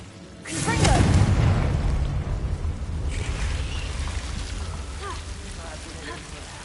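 A Confringo blasting spell explodes in Hogwarts Legacy, a loud booming burst that swells and then trails into a long rumbling, crackling decay.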